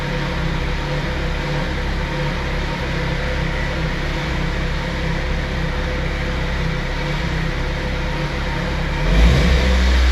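A flood-damaged car engine with its throttle stuck open holds a steady, elevated drone throughout, close and continuous, with a slight swell near the end.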